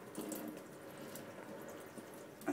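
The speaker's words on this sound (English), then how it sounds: "I also pop this in the sink and give it another shot of water" Tap water running into a sink while a hose from a baby fish cleaning setup is flushed, a soft steady trickle throughout with a brief splashy burst near the end, no talking.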